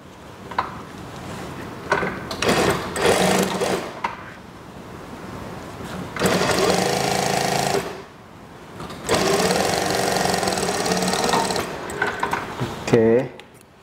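A sewing machine stitches a long school skirt with an elastic waistband in bursts of rapid mechanical whirring, loud and close, separated by pauses and small clicks of handling the fabric.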